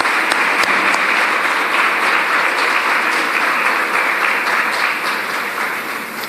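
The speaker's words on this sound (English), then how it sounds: "allow me to ask the students to give a round of applause to teachers and parents" Students in a large hall at the Governor-General's National Youth Consultative Conference applaud their teachers and parents, a loud, dense, sustained wash of clapping across the room that eases slightly toward the end.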